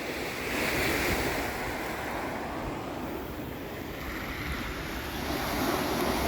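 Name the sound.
sea storm waves driven by sirocco wind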